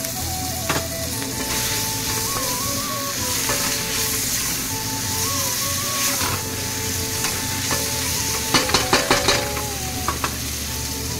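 Steady sizzling of chicken curry masala frying in a pressure cooker as chopped green chillies are stirred in, with continuous hiss and a quick run of metal spoon clinks against the pot near the end.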